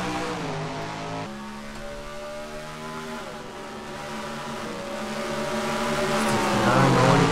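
Modified race cars accelerating around the oval at Milwaukee, a loud sustained engine drone with steady rising and falling pitch as the pack passes, building louder toward the end.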